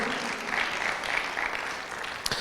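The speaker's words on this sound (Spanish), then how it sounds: "Puede darle un aplauso al Señor." Church congregation applauding during a sermon, a short burst of many hands clapping at moderate volume that fades toward the end, with a sharp knock just before it stops.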